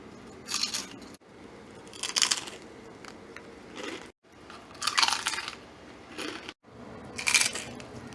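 Several crisp crunching bites of grilled chicken skin, close to the ear, spaced a second or two apart with quiet chewing in between and no speech.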